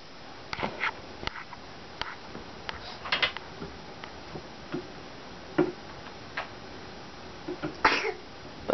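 Several short sneezes or sniffs from a child playing with blocks indoors, scattered as brief bursts over a quiet room with soft handling clicks in between.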